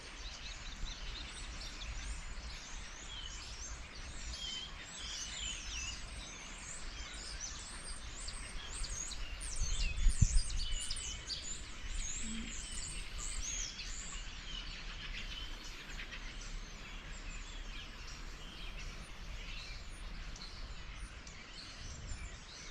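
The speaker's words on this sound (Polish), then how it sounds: "Było cicho, cicho i nagle w tym miejscu jest po prostu mnóstwo ptaków." Many birds chirp and twitter at once in a dense, continuous chorus, fairly faint, with no voices.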